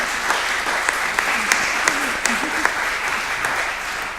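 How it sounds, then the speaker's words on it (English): Audience applause welcomes a panel at an evening dialogue event, a steady, dense wash of clapping lasting throughout with a few sharper individual claps standing out and a faint voice briefly audible beneath. "So please give them a round of applause and welcome them this evening"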